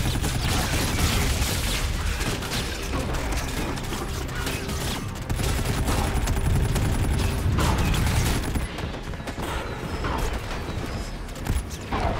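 Sustained gunfire and mechanical combat noise from a firefight in Call of Duty: Infinite Warfare, played on PC, with dense loud bursts running throughout and no clear talk over it.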